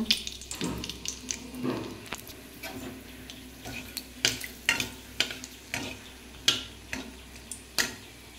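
Bay leaves and whole garam masala fry in hot oil with a soft, steady sizzle, punctuated by sharp spatula taps and clicks against the pan at irregular intervals.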